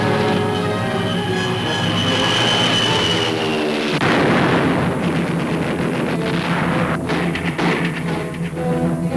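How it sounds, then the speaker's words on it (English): Gunfire rings out during a World War II beachhead battle in the Palau Islands, heard as a dense, continuous roar of shots and blasts with rumbling explosions, compressed and loud throughout as in an old 1944 newsreel soundtrack. "records the advance of a patrol under constant fire"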